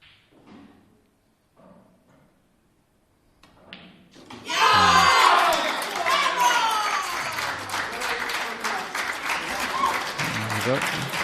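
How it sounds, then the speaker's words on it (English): Crowd cheers and applauds at the Welsh pool championship open final. Quiet murmurs and a few thuds come first, then the burst erupts at around four seconds and holds loud and steady, with shouts mixed into the clapping. "Nice cheer from the crowd there"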